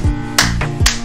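Two sharp, separate claps about half a second apart, close and fairly loud, over a steady low humming background with no talking.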